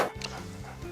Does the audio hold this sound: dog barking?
yes